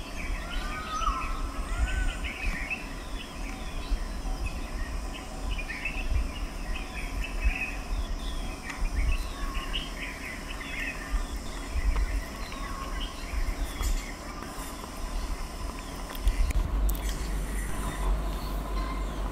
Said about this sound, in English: We also have a black-hooded oriole here, a very colorful bird which only visits Tadoba during the summer months.